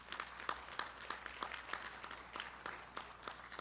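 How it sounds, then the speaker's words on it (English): Applause from a union local's general membership meeting, made of distinct, fairly quiet claps in an uneven rhythm, sparse and somewhat distant rather than a full roaring ovation. "Give yourself a round of applause."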